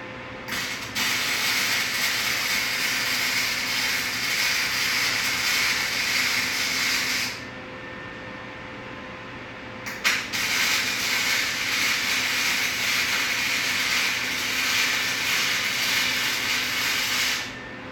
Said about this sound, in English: So, alright, let's weld these nuts in place.